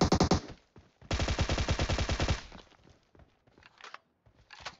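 Close, loud automatic gunfire in PUBG Mobile: a short rapid burst, then a longer sustained spray of shots, followed by a few scattered single shots and brief bursts.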